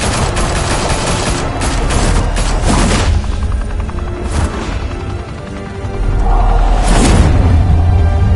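Heavy gunfire in Batman: The Telltale Series rattles in dense volleys with booming impacts, loud and close, pausing briefly before another burst and a crash-like blast.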